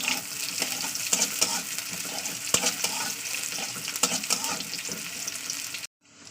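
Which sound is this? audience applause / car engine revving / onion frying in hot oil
onion frying in hot oil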